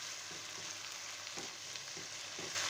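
Cubed onion with half a spoon of vinegar sizzles steadily in a pan, close and moderately loud, with soft scraping strokes of stirring throughout and no voices.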